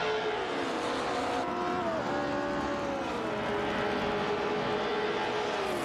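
Engines of a Porsche 906 and a Cooper Type 61 Monaco in a racing video game, a steady droning whine with shifting pitch, loud and continuous with no pauses throughout.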